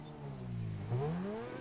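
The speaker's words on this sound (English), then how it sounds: "Give it a couple revs." A car engine in the GTA 5 video game revs up in a quick rising whine, dips, then climbs again in a second longer rev, faint and alone.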